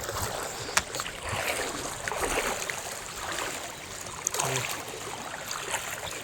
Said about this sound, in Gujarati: જે જાય છે તે પાણી આમથી આવે છે ને આ બાજુ જઈ રહ્યું છે